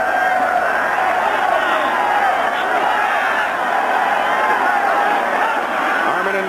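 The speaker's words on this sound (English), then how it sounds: "Good crowd at Legion Field." A large stadium crowd at a 1984 USFL football game at Legion Field, Generals versus Stallions, roaring as a steady, dense wash of cheering under a commentator's voice.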